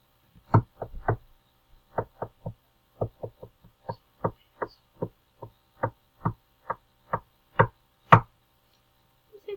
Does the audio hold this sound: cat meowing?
no